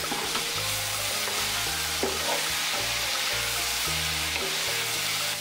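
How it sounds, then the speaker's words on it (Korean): A spoonful each of anchovy fish sauce and oyster sauce hits the edge of a hot wok and is stir-fried. A dense, loud sizzle runs throughout, broken by scraping and tossing knocks, with no voices. "웍 가장자리에 멸치 액젓 한 스푼과 굴소스 한 스푼을 넣고 살짝 볶아 비린내를 날려줍니다."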